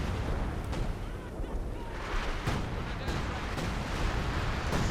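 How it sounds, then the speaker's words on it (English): Artillery strike in Company of Heroes 2, a 1v1 match with US forces shelling an OKW battle group headquarters: dense, continuous rumble of shell impacts and blasts with sharp transient bursts, loud and sustained throughout. "there we go, another artillery strike in here"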